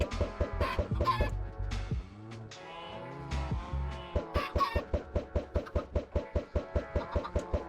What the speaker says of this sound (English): We can throw some chickens in here.